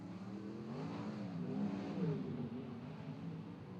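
A race car accelerates during a time trial at Nelson, its engine note rising steadily as it speeds up, a continuous mid-pitched drone of moderate loudness with no talk over it.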